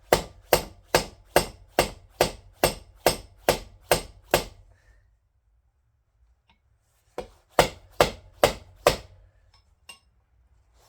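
Sharp metallic hammer blows on a 1953 GMC wheel bearing strike in a fast, even series of about ten, a pause, then another quick burst of five or six hits.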